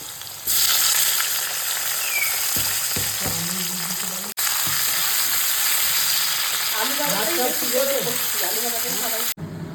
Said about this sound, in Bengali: আমি এবার ভাজাগুলো শুরু করে দিই